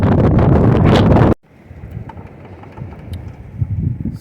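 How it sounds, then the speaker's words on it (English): Strong outdoor wind of about 25 miles per hour buffets the microphone in a loud roaring rush, which cuts off abruptly and leaves a softer, gusting breeze. "This high wind is 25 miles per hour now"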